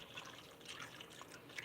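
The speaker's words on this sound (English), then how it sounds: "Okay, and then we're going to add our water." Water poured into a pot of green beans while cooking, a soft continuous splashing and dripping trickle, quiet and close, with no talking.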